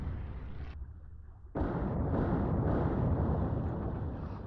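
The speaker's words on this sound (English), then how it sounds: "depth charges away" Depth charges go off in the Atlantic Fleet naval game. A deep rumbling blast dies away, then a second, heavier explosion hits sharply and rolls on as a loud, sustained roar.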